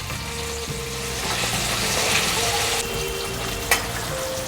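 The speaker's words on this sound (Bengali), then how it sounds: "আমি একটু পেঁয়াজ দেব।" Onion sizzling and frying in oil in a pan while making a paneer curry, a steady loud crackle with occasional stirring clinks and scrapes, no talking.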